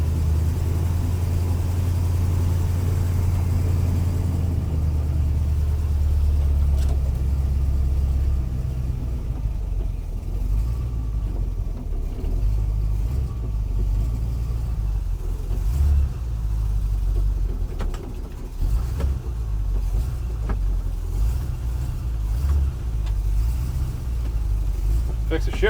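A 1953 GMC truck engine idles and rumbles on its first drive, a deep steady mid-pitched drone with shifting load, while a person talks over it throughout.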